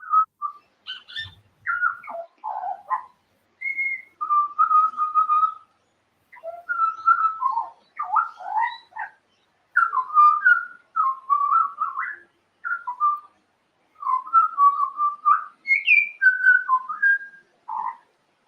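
An Australian butcherbird sings a long, varied song of clear, fluting whistled phrases, rising and falling, with short pauses between bursts; close and fairly loud, no voices.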